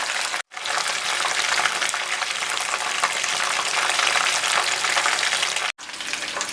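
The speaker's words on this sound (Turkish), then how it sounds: "Ocaktan alacağım ve ikinci postamı kızartmaya başlayacağım." Steady, loud sizzling of breaded chicken frying in hot oil, a dense crackle that runs on without pause apart from two brief cuts.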